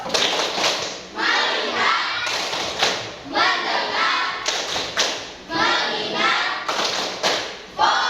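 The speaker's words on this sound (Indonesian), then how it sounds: "Coba tepuk fokus." Primary school pupils in a classroom perform a rhythmic group clapping chant, bursts of clapping and thumping separated by short chanted pauses, loud and close, with children's voices mixed in.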